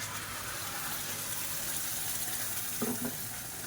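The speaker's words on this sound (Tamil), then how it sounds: "இப்போ மிக்சியை அலசிட்டு அப்படியே சேர்த்துக்கலாம்" Tap water runs to rinse out a mixer grinder jar while paneer gravy is made. A faint, steady gush continues throughout, with a short clink near the end.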